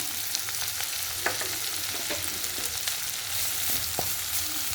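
Grated coconut sautéing with pirandai in a pan for chutney, giving a soft continuous frying hiss with sparse light scrapes and taps of stirring, fairly quiet and close.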